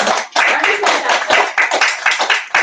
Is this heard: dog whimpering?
no